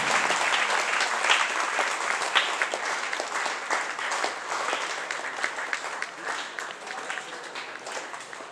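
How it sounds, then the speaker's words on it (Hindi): A crowd at a church youth gathering bursts into loud, sustained clapping to honour a sister and a father, dense applause holding steady throughout. "सभी को जोर से ताली बजाएंगे।"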